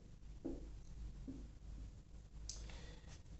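A pen scratches softly across paper while triangle vertices are labelled, with a couple of brief strokes and a small tap, faint and close against quiet room noise.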